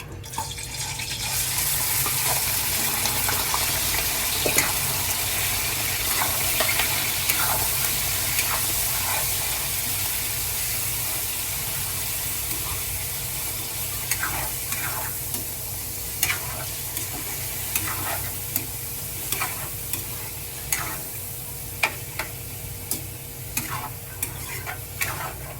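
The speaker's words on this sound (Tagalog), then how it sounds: "Lalagay na natin tong pork." Pork sizzles and fries in a hot pan, a steady loud crackling hiss with repeated scraping clicks of stirring throughout and no voices.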